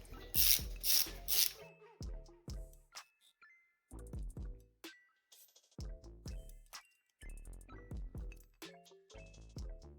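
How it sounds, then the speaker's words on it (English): Ratchet loosening 8mm head bolts on a Ford Fusion 2.5L engine during teardown, heard as close rapid clicking bursts with metallic clinks and brief pauses between them. "Pulling out the bolts."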